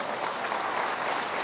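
A church congregation clapping together, a dense, even wash of applause at moderate distance with no clear voices over it.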